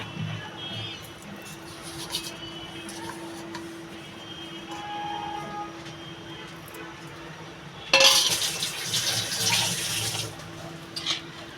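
Water poured into a simmering Bengali spinach and potato curry with prawns: a steady, trickling wash of water that swells into a louder, fuller rush near the end, close by, with no voices.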